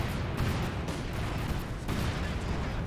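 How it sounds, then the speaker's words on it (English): Light artillery barrage in Company of Heroes 2, a dense rumbling stream of booming impacts and crackling blasts rolling on without pause, loud and close. "One of them outright destroyed thanks to the light artillery barrage."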